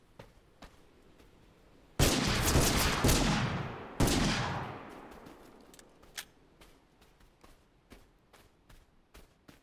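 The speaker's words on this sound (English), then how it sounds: "LMGs are so bad in this game because they have like all of the recoil" In the Totally Accurate Battlegrounds game, a light machine gun fires two loud, dense bursts of rapid shots, each tailing off into echo. Scattered single sharp cracks follow.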